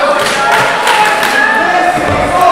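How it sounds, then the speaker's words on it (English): A wrestling crowd roars and cheers steadily at a live show, a loud, dense wash of voices with a few thuds underneath. "The crowd loving it as we are here."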